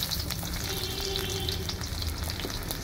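Chopped onions hit a very hot iron pan over a wood fire for a duck curry and set off a loud, busy sizzle with dense crackling pops that runs continuously.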